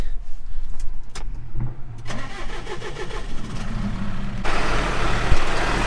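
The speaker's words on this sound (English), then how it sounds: "So turn the tractor on here for Phil" A farm tractor engine cranks and catches, then settles into a loud, steady diesel idle that grows stronger and fuller, heard up close with no talking.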